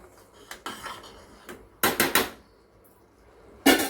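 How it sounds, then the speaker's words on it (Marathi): A spoon scrapes and knocks against a pressure cooker in a few short, uneven bursts with quiet pauses between them, stirring a boiling cashew, pea and potato curry. "आता तळापासून ढवळून घ्यायचं आहे"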